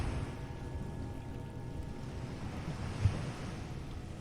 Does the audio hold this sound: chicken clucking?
no